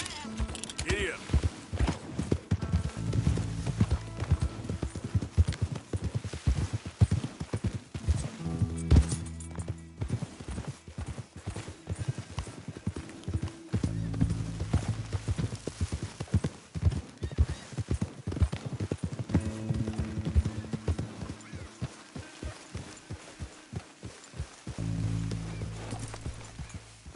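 Horse hooves clip-clop in a steady trotting rhythm in Red Dead Redemption 2, close and clear, with a whinny, saddle creaks and occasional talking over the hoofbeats.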